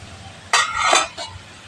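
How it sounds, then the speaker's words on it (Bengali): Metal spatula scraping and clinking in a pan while ginger paste and spices are stir-fried over low heat, a couple of short clattering strokes over a faint background. "আদা বাটাটা দিয়েও মশলার সঙ্গে ভালো করে একটু হালকা আঁচে কষিয়ে নিতে হবে।"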